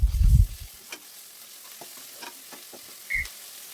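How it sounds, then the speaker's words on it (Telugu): Ginger garlic paste frying in a pan for chicken curry, a soft low sizzle with a brief stirring scrape at the start and faint clinks, no talking. "అల్లం వెల్లుల్లి పేస్ట్ పచ్చివాసన పోయేంత వరకు బాగా వేయించుకోవాలి."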